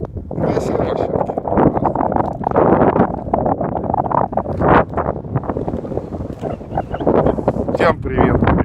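Strong gusting wind blows across a frozen gulf, buffeting the microphone with loud, uneven roaring rushes throughout while a person talks.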